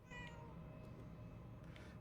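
Cat meowing in the video game Murdered Souls, a drawn-out tonal meow near the start followed by a softer second call, set against a steady low ambient rumble.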